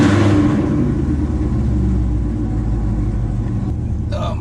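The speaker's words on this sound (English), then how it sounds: "I keep on starting this straight pipe Camaro" A straight-piped 2021 Chevrolet Camaro SS with a full-bolt-on tune rumbles loudly at idle up close, with a deep, steady low exhaust drone that slowly eases off.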